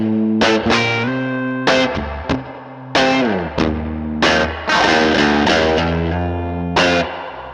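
An electric guitar driven through a Minotaur overdrive pedal with heavy reverb plays loud, distorted chords and single notes in short ringing bursts, each strike sustaining before the next.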